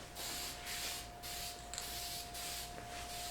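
Steady hissing spray from an aerosol spray paint can coating a rifle in repeated bursts with short pauses, close by, plus a faint constant whine.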